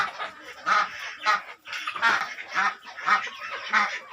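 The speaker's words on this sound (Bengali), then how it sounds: "আমার ছোটো খামার হিসেবে যে ছোট খামারের যে হাঁস এবং মুরগি তাদেরকে দেখা যাচ্ছে" Ducks on a small farm with chickens, a run of loud repeated quacking and honking calls in uneven bursts, close by with no speech over them.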